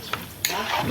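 A tricycle motorcycle engine starts up abruptly partway through and settles into a steady running rumble close by, with faint talk in the background.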